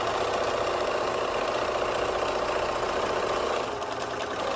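A sewing machine stitches a French hem, running continuously as the fabric feeds under the presser foot: a steady, close, loud mechanical whir with fine rapid vibration, slackening briefly near the end.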